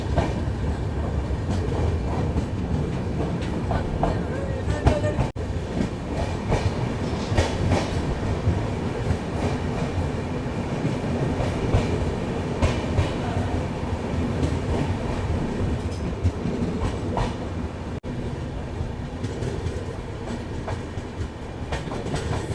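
The Rani Chennamma Express of Indian Railways runs along, heard from inside a first-class AC coupe as a continuous loud rumble with rhythmic clickety-clack of wheels on rail joints and no voices.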